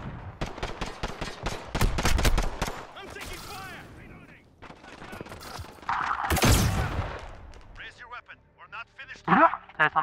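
Call of Duty Modern Warfare gunfire in bursts of rapid shots with loud blasts, mixed with radio-like game chatter and effects that come and go over the clip.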